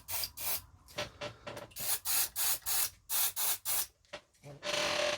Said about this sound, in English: clean it with some head cleaner